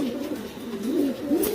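A female racing pigeon gives a soft, low rolling coo, a couple of wavering throaty phrases close by over faint background noise.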